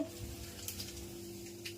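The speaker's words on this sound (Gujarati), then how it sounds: "ટમેટાનો વઘાર કરવાનો છે ને ઓળો બનાવવાનો છે." Tomatoes sizzle faintly and briefly as they are tempered in oil for Kathiyawadi oro, a soft, even frying hiss over a low background hum.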